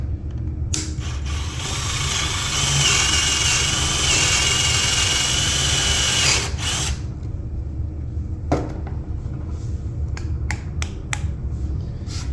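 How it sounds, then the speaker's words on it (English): A power drill whines loudly for several seconds as it bores a hole into a piano leg, then stops, followed by a few sharp clicks and taps. "So we're next going to drill."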